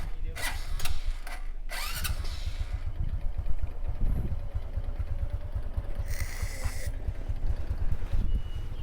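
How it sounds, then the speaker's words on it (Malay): Motorcycle engine cranked over with sharp mechanical bursts, then settling into a low, uneven idle rumble close by, with a few clanks and brief hisses in a workshop. "Kita dah start motor ni."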